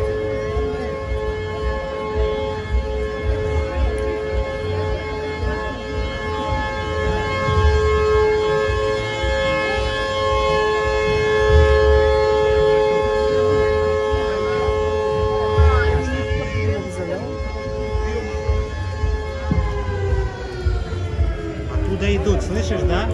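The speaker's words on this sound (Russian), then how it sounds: "Проверили сирену или что?" A civil-defense siren sounds along the Portuguese route of the Camino de Santiago, a steady, droning wail that holds for over twenty seconds under distant ambient noise, with people talking nearby.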